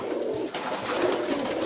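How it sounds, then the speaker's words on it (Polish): Pigeons cooing in a loft of racing pigeons, several birds calling in soft overlapping coos at moderate distance, steady and continuous with no talk. "Gołębi jest sporo"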